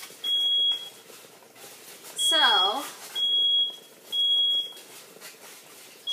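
A super sensitive household smoke alarm sounding loud, shrill repeated beeps in long bursts with short gaps, while a person talks nearby.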